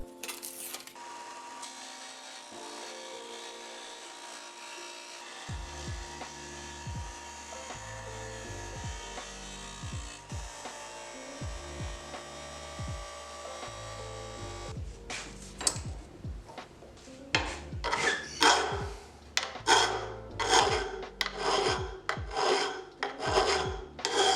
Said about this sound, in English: I'll use my disc sander and some files to bring the knife to its exact shape